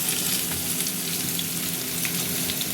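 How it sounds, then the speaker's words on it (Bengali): Prawns fry in hot oil in a kadai, a brief, continuous close-up sizzle with faint crackles and no talking. "এই চিংড়ি মাছটা ভাজবো।"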